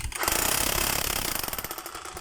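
Power tool, model 58999, running loudly with its washer mounted upside down, giving a harsh, rapid hammering rattle that starts abruptly and carries on steadily without speech.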